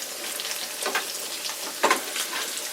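Bacon frying in a cast iron skillet, a steady crackling sizzle with a few sharper pops of hot grease.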